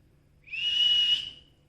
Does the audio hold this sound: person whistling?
yes